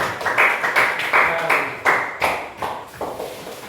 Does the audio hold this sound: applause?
yes